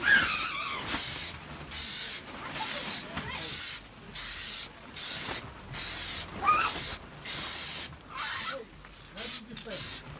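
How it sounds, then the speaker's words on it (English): Repeated short bursts of spray paint hiss from an aerosol can onto BMW 730d E65 alloy wheels, about a dozen evenly spaced sprays, close and loud, with faint rattling between them. "good thing to just give it a little spray, make sure it's all coming out nicely"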